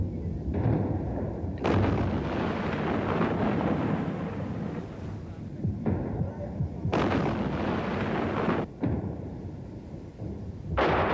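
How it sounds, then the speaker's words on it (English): Self-propelled guns pound positions in towns along a highway, heavy booming artillery blasts recurring every few seconds with rumbling, reverberant tails over a constant noisy background, no talk. "self-propelled guns pounded PLO positions in towns along the highway"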